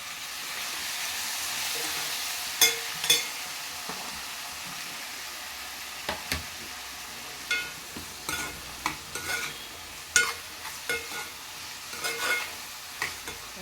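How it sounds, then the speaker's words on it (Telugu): Tomatoes for egg curry fry in a pan with a soft continuous sizzle, while a utensil scrapes and taps against the pan in irregular bursts. "ఇప్పుడైతే టమాటాలు వేసేసుకోవాలి"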